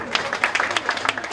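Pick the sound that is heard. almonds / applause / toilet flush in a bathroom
applause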